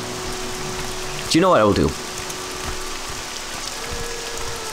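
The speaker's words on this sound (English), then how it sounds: "Now, it's still raining." Steady rain falls in the video game Morrowind, a constant soft hiss that runs through the whole stretch while someone speaks briefly over it near the start.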